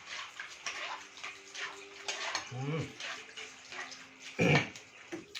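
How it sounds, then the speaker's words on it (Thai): Water poured off cherry snails as they are rinsed in cold water, a steady splashing wash with a louder gush near the end, under faint background speech. "น็อกน้ำเย็นแล้วก็เอาน้ำทิ้งลงไป"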